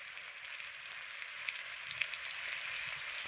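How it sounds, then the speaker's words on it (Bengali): Food frying with turmeric in a pan while a gravy is started, a steady close hiss of sizzling oil with faint crackles and occasional stirring, no voices. "ভালো করে এটাকে আমি হলুদ দিয়ে ভেজে নেবো"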